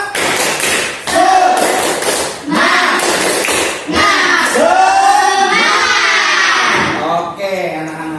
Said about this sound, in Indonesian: Kalau gitu kita harus tepuk semangat.